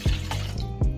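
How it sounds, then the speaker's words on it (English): Milk pours into egg yolks for a vanilla chiffon cake batter, a brief, close splash and steady liquid flow lasting about a second. "we'll then add in the milk"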